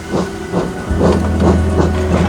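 A steam locomotive lets off loud, continuous steam hiss with rhythmic chuffing bursts, a steady low rumble joining partway through as the engine pulls away.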